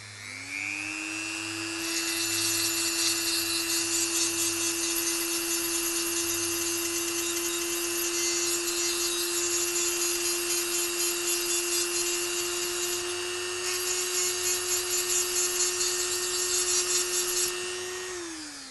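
A power sander grinds steadily against stone for about sixteen seconds, spinning up at the start and winding down at the end, loud and continuous with no talking.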